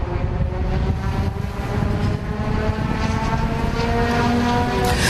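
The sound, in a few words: race car engine sounding troubled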